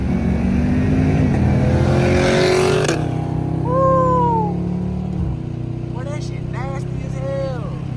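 A Chevrolet Camaro SS engine drones and revs while driving downtown, its pitch climbing and then falling away as the car shifts and slows, with a sustained rumble under faint chirping and sliding tones.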